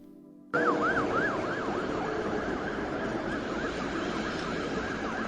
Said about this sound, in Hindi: अस्पताल की एम्बुलेंस से जब नेहा की डेड बॉडी को उतारा जा रहा था